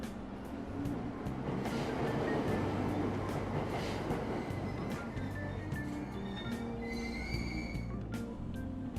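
Subway train pulling out of a station in Persona 5 Royal, with a steady rumble of wheels on rails, rhythmic clicks and faint squeals running through the whole stretch.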